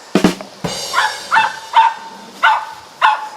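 Dogs chasing squirrels outdoors bark in a rapid series of about six sharp, close barks at a fairly even rhythm, with no talking.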